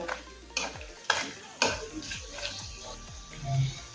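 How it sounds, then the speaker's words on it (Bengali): Bay leaf, cinnamon, cloves and cardamom frying briefly in hot oil for Kolkata-style mutton biryani, giving a soft, steady sizzle broken by a few sharp metal clinks of a spoon against the pan. "কয়েক সেকেন্ড সময় নিয়ে ফোড়নটা একটু ভেজে নেব।"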